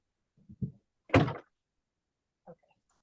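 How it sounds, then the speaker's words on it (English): A camper door is pushed shut, giving a single soft thunk preceded by small handling bumps, fairly quiet and close, with a faint rattle afterward. "the door's making a little noise"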